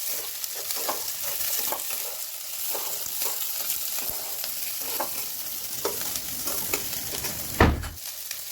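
Vegetables and capsicum stir-frying in a pan for soybean chilli, with a steady sizzle and repeated scraping strokes of a spatula, close up, ending in a louder clatter.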